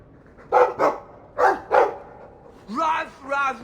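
A dog in the video game Dragon Age 2 lets out a quick pair of barks, then another pair, followed by two longer, whining yelps, close and clear with no talk over them.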